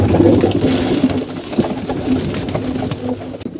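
Pigeons coo in a loft, several soft throaty calls overlapping close by with a little rustling, no speech.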